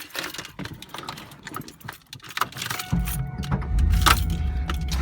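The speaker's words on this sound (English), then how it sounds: "you hear that big V8 fires right to life." Engine of a 1996 Pontiac Formula Firebird V8 starting, with keys jangling before the engine catches into a loud, steady low rumble that continues as it idles.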